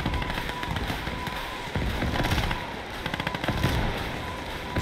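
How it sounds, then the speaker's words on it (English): A rocket barrage firing in the World War II video game Gates of Hell, a dense rolling crackle of repeated blasts and pops that carries on steadily throughout, with no talking over it. "We've got the rocket barrage."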